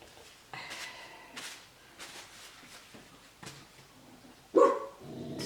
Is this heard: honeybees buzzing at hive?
no